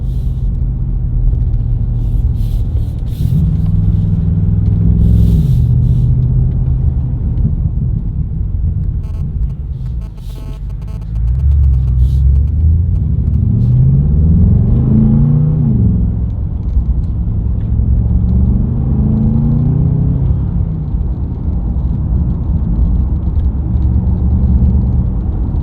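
A Bentley Continental GT V8 S engine drones loud and steady while driving on tight roads, its pitch climbing and falling through gear changes with a brief dip in the middle before pulling hard again.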